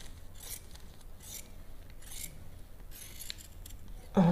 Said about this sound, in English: So we're cutting